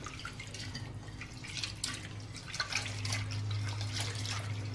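Water splashing and dripping as lentils are swirled and rinsed in warm water in a bowl, soft and close, with a low hum underneath.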